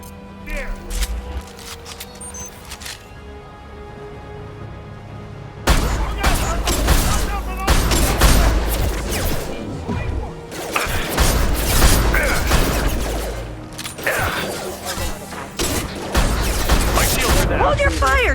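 Rapid, loud gunfire from the Mass Effect game during a firefight on Illium, repeated sharp bursts of shots and impacts over a mechanical background, with voices shouting between the volleys.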